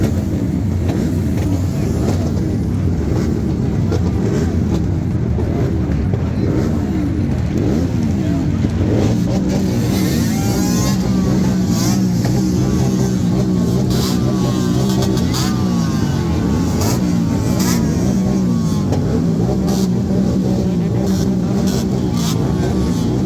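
Superbike engines rev repeatedly at India Bike Week 2023, loud rising and falling roars that keep overlapping amid crowd noise and voices.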